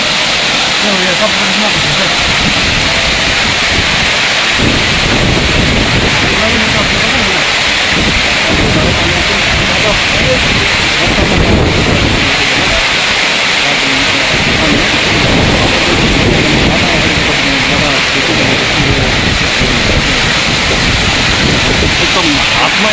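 Heavy rain with hail pelting down in a hailstorm in the Darjeeling–Kurseong hills, with hailstones blowing into a shop; a dense, loud, steady roar of impacts throughout, with a voice talking over it.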